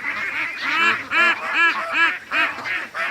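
Ducks quack repeatedly in a pen, a loud, close flock of overlapping harsh calls coming in quick bursts with no talking.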